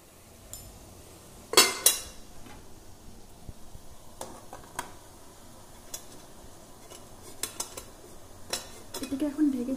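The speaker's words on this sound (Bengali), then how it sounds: "জল ফুটছে, গরম হয়ে গেছে, আমরা এখন মোমো বসিয়ে দেব।" Veg momos being placed into a steamer pot over boiling water, with a few sharp metallic clinks and clatters of pot and utensils close by, then quieter handling and a faint bubbling hiss toward the end.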